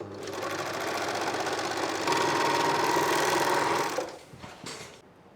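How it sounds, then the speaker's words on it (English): An overlocker sewing machine whirs loud and steady for about four seconds, then cuts off, leaving a few soft clicks and handling noises. "Oh my goodness, overlocker time."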